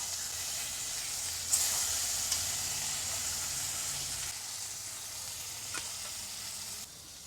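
Bhetki fish fillets sizzle steadily in oil in a kadai, a continuous moderate frying hiss with a few small pops, no talking.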